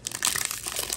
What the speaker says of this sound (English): This other pack just rips open.